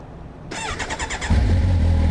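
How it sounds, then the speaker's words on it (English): A starter cranks with a rapid rhythmic whirring, then a Kawasaki Versys 1000 LT SE motorcycle engine catches and settles into a low, steady idle, close by. "Smooth engine, just fired up like my ZX-10R"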